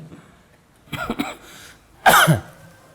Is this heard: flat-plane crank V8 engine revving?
no